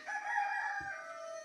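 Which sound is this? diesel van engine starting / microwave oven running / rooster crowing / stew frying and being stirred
rooster crowing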